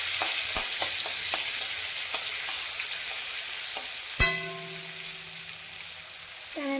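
Finely chopped garlic and coriander fry in a pan while a utensil stirs them, giving a steady close sizzle with light scraping taps and one sharp clank of metal against the pan.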